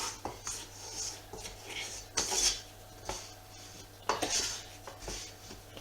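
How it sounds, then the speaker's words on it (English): Metal scraping and clinking as a stand-mixer paddle beater and bowl are scraped down for mince pie pastry with margarine, in several irregular close strokes with quiet gaps between them. "Take the paddle beater off, scrape it down."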